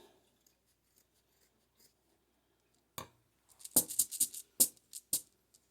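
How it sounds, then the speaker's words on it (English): Sharp scissors snip through the top of a sock being made into a Dollar Tree sock gnome; after a quiet start, a burst of several crisp, close cuts follows in quick irregular succession. "So I'm just going to cut this."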